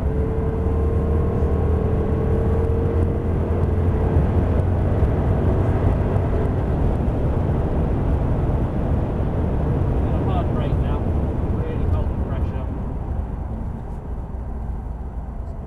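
Jaguar XJR-S engine at full throttle on the Thruxton circuit, a loud, steady in-car roar and rumble that holds throughout, with a voice talking over it.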